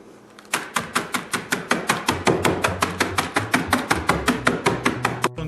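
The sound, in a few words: beer bottle used as rolling pin mashing food in a bag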